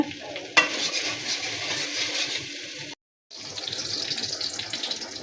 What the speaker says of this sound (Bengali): আমার ভেন্ডি ভাজি হয়ে আসছে